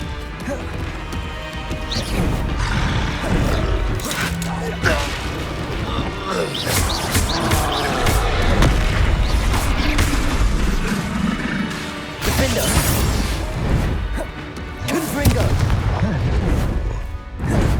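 Spell blasts and explosions in the game Hogwarts Legacy burst in repeated loud crashes and booms, layered with combat clatter and impacts over a dense, busy soundscape.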